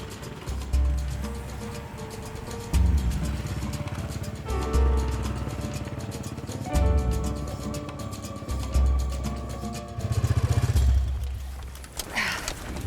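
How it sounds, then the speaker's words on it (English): Traffic in a busy Amazon river town of about 50,000 people, with repeated loud rumbling engine passes of motorcycles and vehicles rising and fading close by every couple of seconds. "There's plenty of noisy traffic here"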